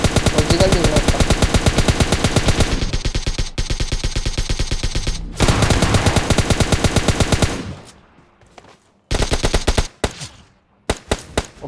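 Rapid automatic gunfire from the mobile shooter PUBG Mobile Lite, loud bursts of closely spaced shots for several seconds, then short gaps and a few final brief volleys.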